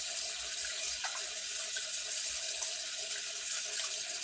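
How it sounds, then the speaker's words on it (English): Tap water runs steadily into a sink as broccoli is rinsed, a constant close hiss with no pauses and no voices. "Now we're going to rinse. And then I'm going to rinse again."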